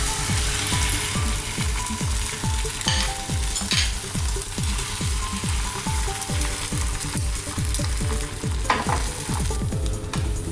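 A one-egg omelette frying in oil on low flame, giving a loud, continuous close sizzle with a fast rhythmic ticking crackle running throughout and a steady hum beneath.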